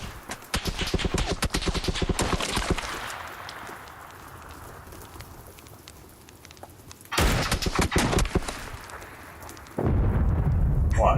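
SCAR rifle gunfire in PUBG comes as rapid automatic bursts of sharp cracking shots, loud and close, with a long opening volley, a quieter stretch, then two more short bursts.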